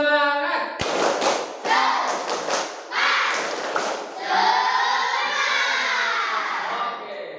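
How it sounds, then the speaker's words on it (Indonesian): A classroom of students claps the rhythmic 'tepuk semangat' pattern in sharp bursts of hand claps and thumps, followed by a group of voices chanting together as the claps taper off. "Oke, kita tepuk semangat dulu. Tepuk semangat."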